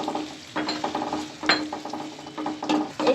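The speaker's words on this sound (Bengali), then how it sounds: "এখন প্রথমে আগে প্যানে তেল দিয়ে দিব। এখানে পেঁয়াজ কুচি দিয়ে দেব" Chopped onions go into hot oil in a pan while chicken khichuri is being cooked. A steady close sizzle runs throughout, broken by a few clinks and stirring scrapes, with no talking.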